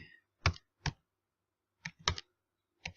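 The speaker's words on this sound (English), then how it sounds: "We can just start typing in here." Short bursts of typing on a computer keyboard, several quick clusters of close, crisp key clicks separated by pauses, with no talking.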